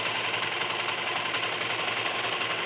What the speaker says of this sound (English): we'll sew the whole inseam in one straight seam